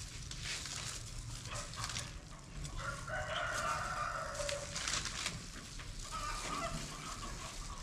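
Chickens on a farm cluck and a rooster crows partway through, fairly close, over a low background hum with scattered rustling.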